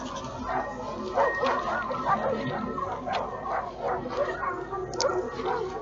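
Dogs bark and yip in the survival horror video game Darkwood, a string of repeated barks with whimpering edges over a dark ambient backdrop, moderately close.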